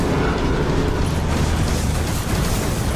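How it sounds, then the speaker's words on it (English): A flashbang grenade in Destiny 2 fills the moment with a loud, dense roaring blast and a ringing wash that stays continuous for about three seconds. "If you're gonna frickin' flashbang me, at least give me an indication next time"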